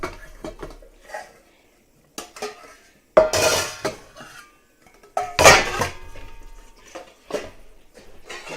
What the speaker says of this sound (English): I've got to grab a couple of my flat bottom bowls.